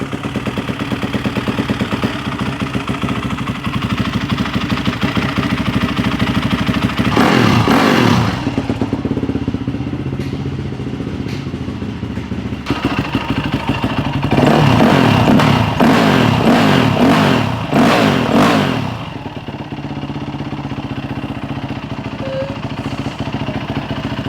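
A BMW motorcycle engine runs close by, idling with a steady mechanical clatter and rising into louder revving bursts a couple of times before settling back to idle, with no talking.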